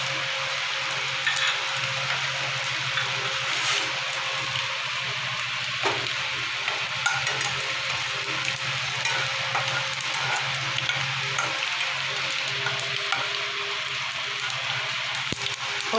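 A tempering of cumin and spices fries in hot oil for a home vegetable dish, making a steady, close, continuous sizzle with faint stirring scrapes and occasional small pops, and no talking.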